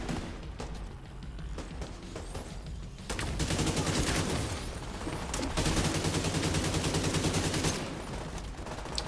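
Rapid gunfire pours at a boss enemy in The Division 2, a dense continuous fusillade of overlapping shots that grows louder after a brief lull.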